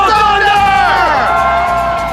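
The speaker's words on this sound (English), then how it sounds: "In OKC, everybody is on their feet cheering." Loud, dense crowd of Oklahoma City Thunder fans cheering and whooping inside an NBA arena during the 2012 Finals, a sustained roar with voices rising together throughout.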